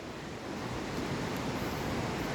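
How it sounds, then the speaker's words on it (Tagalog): Waterfall at Maranum Falls in Batchelor East, Pangasinan, swollen after rain, gives a steady, dense rushing roar that holds even and close for the whole stretch, with no voices. "Dinig na dinig mo yung agos."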